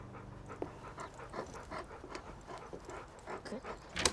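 A dog pants rapidly and rhythmically close by, with steady quick breaths continuing for several seconds and a sharp click near the end.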